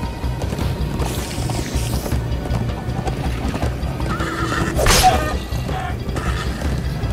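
Horse hooves clip-clop rapidly in a galloping rhythm, with a whinny midway, amid background sound from the video game Minecraft: Story Mode.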